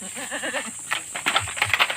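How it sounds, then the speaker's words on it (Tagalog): Goats on a farm bleat in a short series of wavering calls at close range, followed by scattered clatter and rustling. "goat farming kunti na lang yung kambing natin"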